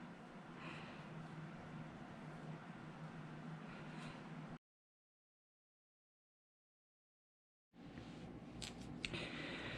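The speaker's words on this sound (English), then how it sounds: "double, triple knot the ends of these and snip them off" Scissors snip off knotted yarn ends on a hand-knit sweater hoodie, quiet steady cutting and rustle at close range, broken by a few seconds of silence before a brief burst of sharper snips.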